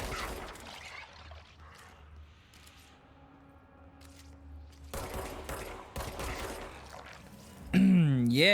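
Gunfire from shooting enemies in the video game Control comes in a few loud bursts late in the stretch, over quieter game ambience and a player's talk, ending in a swooping electronic effect.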